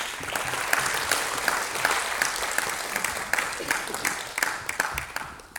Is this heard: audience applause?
yes